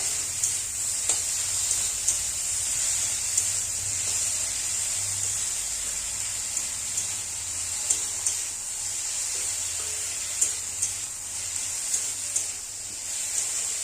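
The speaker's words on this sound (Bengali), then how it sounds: "ভালো করে এরকম লাল লাল করে ভেজে নেব।" Pangas fish pieces with potatoes fry in oil with a loud, steady sizzle full of small pops and crackles, continuous and close, with no voices.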